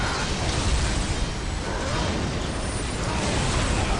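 Strafing-run explosions in a video game form a dense, continuous roaring wall of blasts and rumble that stays loud and steady throughout, with no clear breaks.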